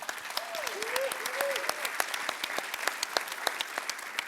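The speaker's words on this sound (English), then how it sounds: "Please, a round of applause for our sponsors." A conference audience at closing remarks applauds the event sponsors with a sustained patter of overlapping hand claps. A brief voice carries through at the start of the applause.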